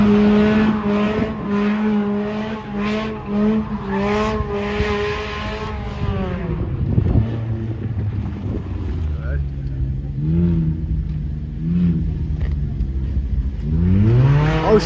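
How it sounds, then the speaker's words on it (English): A Mazda Miata spins out at a car meet, engine revving hard and rising in pitch with tire noise, loud and close over a steady idling backdrop, while people talk over it. "Speaking of the shorty next to us in Miata, she about to go spin real quick."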